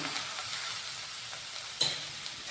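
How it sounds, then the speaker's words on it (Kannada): Chopped carrot, cabbage, capsicum and beans fry for veg fried rice in a pan, giving a steady close sizzle throughout, with one sharper scrape of stirring partway through. "ಹುರಿಬೇಕ್ರಿ ಇವೆಲ್ಲ ಚಲೋತಂಗೆ"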